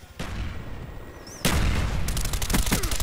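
A grenade blast in Call of Duty: Black Ops erupts with a loud, broadband boom partway through, amid a dense stretch of gunfire and explosive crackle, with a second burst of sharp shots following close behind.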